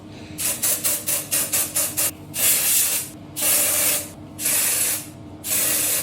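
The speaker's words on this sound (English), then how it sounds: "Like I prefer an aerosol. That's just preference, so I'm gonna put this all within my roots." Aerosol dry shampoo scented with lemon and bergamot is sprayed onto hair roots, first as about eight quick short bursts, then as three longer sustained hisses, all loud and close.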